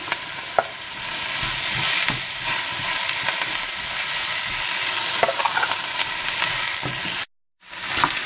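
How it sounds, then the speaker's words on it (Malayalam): Okra stirred and fried in a pan: a constant close sizzle with scraping spoon strokes and clinks against the pan, then a brief silent break before the sizzle returns. "ഇനി നമുക്ക് വെണ്ടയ്ക്ക ഇട്ട് ഇളക്കാം."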